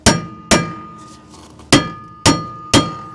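A rotor remover hammer strikes a stuck rear brake rotor on a Toyota Camry, giving five loud, sharp metallic taps with ringing decay, two close together, then a pause, then three more in quick succession.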